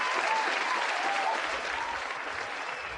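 Steady, fairly quiet applause from a podcast show audience, continuous clapping with no breaks for three seconds.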